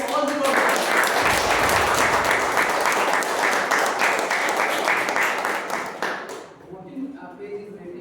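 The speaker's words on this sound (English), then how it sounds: "Let us have a big round of applause for all the members" Sustained applause from members at a club meeting, steady dense clapping for about six seconds before fading to scattered claps and murmuring.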